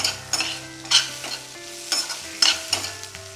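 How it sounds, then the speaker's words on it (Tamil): Shallots, country tomatoes and curry leaves sauté in a pan with a soft sizzle beneath repeated scraping stirs, bright spatula strokes landing roughly every half second. "சின்ன வெங்காயம், நாட்டு தக்காளி, கருவேப்பிலை இது எல்லாமே நல்லா வதங்கிருச்சு"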